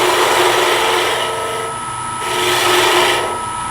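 Shallow fluted gouge cutting a rounded cove on spindle work for furniture on a wood lathe, a loud continuous hissing scrape that swells and eases in two long sweeps as the tool moves along the spinning wood.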